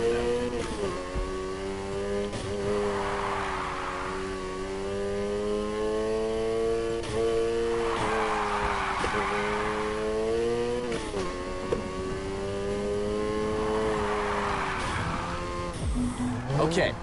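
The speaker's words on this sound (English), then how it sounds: "You're drifting." A car drifts in a Need for Speed racing game, its engine holding a steady drone while hissing tire squeals swell and fade in three long waves.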